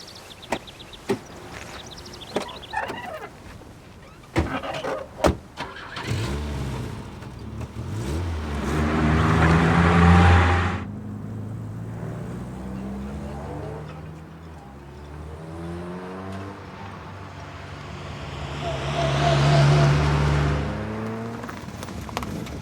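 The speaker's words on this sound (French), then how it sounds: "Faire un tour de bagnole." A car drives past twice, each pass rising to a smooth engine swell and fading, with sharp clicks and knocks at the start, moderately loud and without speech.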